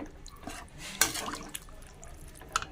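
Water from a rinsed bowl of poppy seed paste is poured into a curry in a pan, giving a short splashing gush followed by a few faint drips and small liquid sounds.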